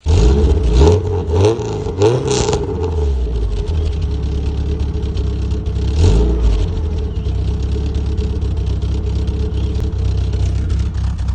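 A Nissan 240sx engine catches and revs several times in quick bursts, then a second rev blips before it settles into a steady, slightly uneven idle, close and loud with no voices.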